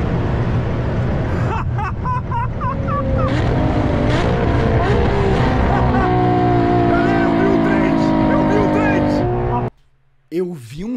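A Ferrari LaFerrari revving and accelerating hard, its engine note climbing through rising gears in loud, close sweeps before cutting off abruptly near the end, with excited voices talking over it.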